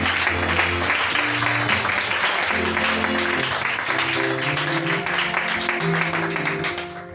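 A church congregation claps together during a service, a loud, continuous patter of hands that runs over sustained music notes and fades slightly at the very end.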